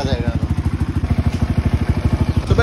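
A Yamaha R15 V3 motorcycle engine idles after a coolant and oil mix-up with a damaged oil seal, its close, loud, rapid, even putter pulsing steadily the whole time.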